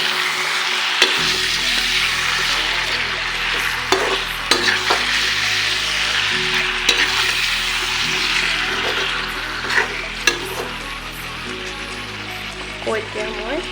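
Mutton for a village-style Assamese curry sizzles steadily in a pan while being stirred, with continuous frying hiss and intermittent scraping clicks of the spoon, loud and close throughout.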